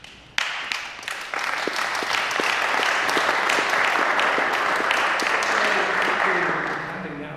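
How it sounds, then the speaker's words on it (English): An audience bursts into clapping that starts abruptly and holds steady and fairly loud for several seconds, thinning out toward the end, at a talk on medical marijuana. "Clapping is good, excellent clapping."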